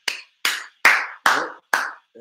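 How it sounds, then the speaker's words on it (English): Five separate, loud hand claps ring out in an even, slow rhythm, each followed by a short echoing decay, then a faint final tap; no talking over them. "Let's give her a round of applause"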